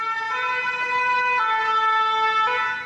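A French fire brigade siren wails loudly and close by, its steady two-tone pattern switching pitch every second or so over a constant hum.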